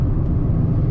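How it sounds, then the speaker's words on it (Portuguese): Steady, loud broadband roar of tyres on new, rough asphalt fills the cabin of a moving 2024 Peugeot 208 Turbo hatchback, a continuous low rumble with no pauses. "é um asfalto mais rugoso e faz bastante barulho"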